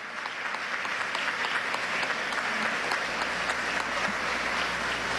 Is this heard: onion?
no